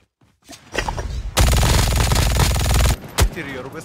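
Rapid automatic gunfire crackles loudly in a sniper shooter game, with a sustained burst of about one and a half seconds followed by a single sharp shot, and brief voices around it.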